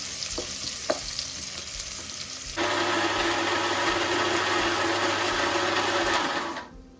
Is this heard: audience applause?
no